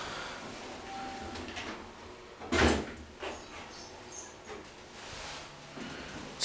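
Otis hydraulic elevator door in a 1976 Bloomingdale's department store in White Plains, in poor working condition: one loud rumbling clunk midway, followed by a few softer knocks over a steady low hum.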